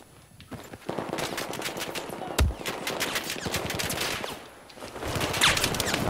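Gunfire in the video game Battlefield 4 on the Dragon's Teeth submerged map: rapid automatic bursts of rifle fire crackle in quick repeated volleys, with one heavier thump in the middle, loud and close throughout.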